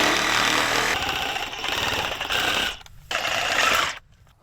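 A power tool saws loudly through a wooden fence post, a harsh sustained buzz that drops out briefly twice as the cut pauses and resumes.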